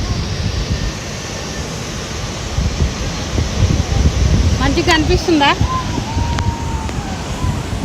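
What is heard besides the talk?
small waterfall in Kerala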